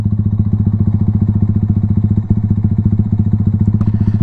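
A Yamaha Y15ZR motorcycle pulls away uphill in gear, its engine chugging in a fast, even pulse with clattering mechanical knocks, close and loud throughout.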